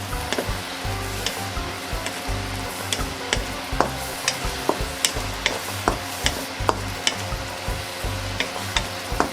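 Pork stir-frying in a pan, with a continuous sizzle under a run of sharp clacking strokes from stirring, fairly regular and close, and no speech.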